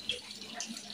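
Water flows from the spring at the Subukia shrine of Mary, Mother of God, making a soft, steady trickling wash that stays faint and even for about a second.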